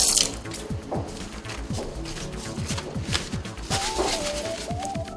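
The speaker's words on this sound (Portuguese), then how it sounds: "peça ao paciente para lavar e secar as mãos" Running water from a sink tap splashes continuously as a patient washes their hands, with irregular drips and splatters close by and a brief squeak partway through.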